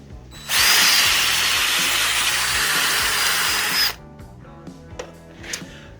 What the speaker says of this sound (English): the next thing we're going to do is the drill test